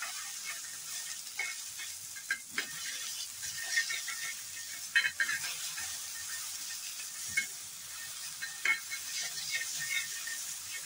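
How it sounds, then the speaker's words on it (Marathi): Steady sizzling of chutney frying in hot oil for pav bhaji, with occasional stirring scrapes and pops, no talking. "ही मगाशी मिक्सरला लावलेली चटणी थोडीशी घालायची आहे आणि चांगली तेलात भाजून घ्यायची"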